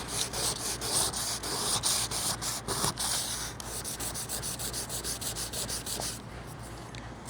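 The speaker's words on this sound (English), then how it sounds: "I'm going to sand it and scuff it anyway" Sandpaper scuffing the peeling paint on a Honda car body by hand, continuous rhythmic abrasive strokes, loud and close with no talking.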